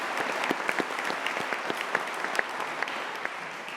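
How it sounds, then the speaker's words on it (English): A graduation audience at a Greenwich ceremony claps for families and friends, a full, continuous round of applause with sharp individual claps standing out close by, steady and unbroken throughout. "So let's have a big round of applause for our families and friends as well."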